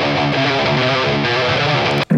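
An electric guitar played through a high-gain amp rings out a thick, heavily distorted chord, loud and sustained, then cuts off abruptly at the end.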